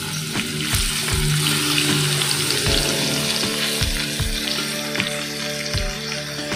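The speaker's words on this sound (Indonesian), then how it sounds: "Digoreng aja di tepinya." Tofu fries in a pan beside a stir-fry of sautéed aromatics, with steady sizzling and crackling throughout and periodic low thuds and scrapes of a utensil moving the pieces.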